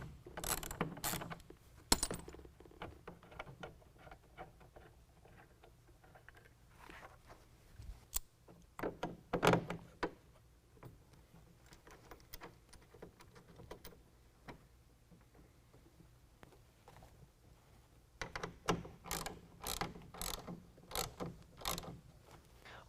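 Ratchet removes 13mm nuts from a tonneau cover clamp on a 2019 Chevy GMC 1500 truck bed, faint clicking bursts at the start and again near the end, with quiet handling noises and occasional metallic knocks between.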